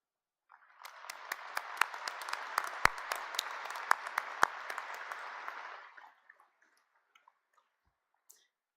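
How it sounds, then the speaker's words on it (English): A round of applause from the crowd at a commencement ceremony, a few seconds of steady clapping with some sharp individual claps standing out, then fading to scattered last claps and quiet. "the least we can do is to give you all a round of applause"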